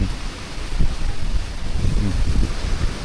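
Outdoors, wind gusts across the microphone in a continuous rough rumble that swells and eases, fairly loud and with no talk over it.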